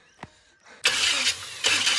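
A vehicle engine catches after a short click and then runs loudly and close, its rumble surging once more near the end. No one speaks.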